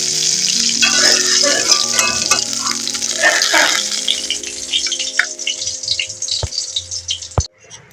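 Okra frying in oil in a pan makes a loud, bright sizzle that gradually thins into scattered crackles and pops, with a couple of sharp clinks near the end.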